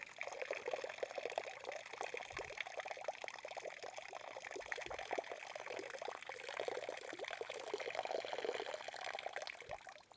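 Water poured steadily into a lake to imitate a cow moose urinating, a continuous splashing trickle with a few heavier plops, close and fairly quiet, with no talking.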